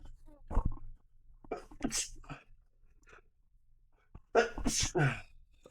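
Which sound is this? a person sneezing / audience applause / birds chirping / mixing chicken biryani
a person sneezing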